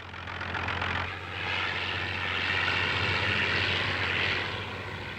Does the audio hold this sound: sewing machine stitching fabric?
no